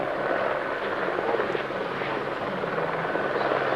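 A helicopter hovers and reverses at the Wings Over the Illawarra 2017 airshow, its rotor drone a steady, dense roar held at constant loudness throughout, with no voices in the clip.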